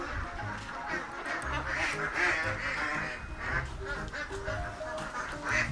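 Itik Pinas ducks, a pure-line Philippine breed in black and khaki colours, quack continuously as a close, busy flock, with overlapping calls throughout.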